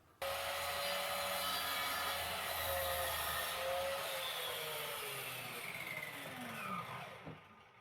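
Chop saw cutting through wooden picture-frame pieces to square the ends, a steady loud buzzing cut running nearly eight seconds before the blade winds down and stops.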